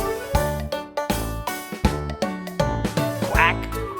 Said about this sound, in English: ducks on the farm say quack